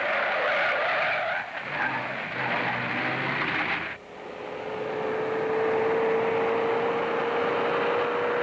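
A 1941-era car skidding out of control, with a loud, sustained tire screech and engine roar that cuts off abruptly around midway, followed by a fainter steady whine.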